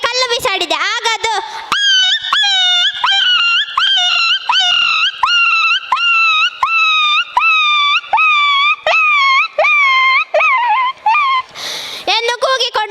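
A voice imitating a dog yelping after being hit by a stone, a loud run of repeated high whining yelps in quick rhythm, close and alone.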